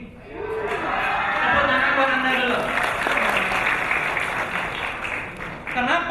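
Audience applause at a product presentation, swelling in after a moment into steady clapping mixed with voices and shouts from the crowd.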